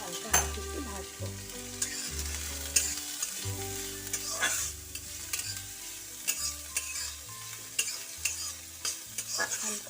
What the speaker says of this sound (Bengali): রসুন আর পেঁয়াজের কুচি আমরা হালকা হাতে একটু ভাজবো।